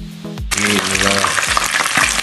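Tofu dropped into hot oil, bursting into a loud, dense crackling sizzle that continues steadily, with a brief clatter of a utensil before the frying starts.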